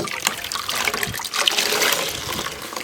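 Water trickling and dripping from a wrung-out sea sponge, a steady close splatter of liquid running for a few seconds with no voices.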